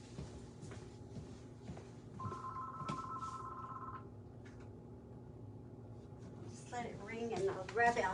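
An indoor telephone rings in a short electronic trill, fairly quiet under steady talk, followed by more speech.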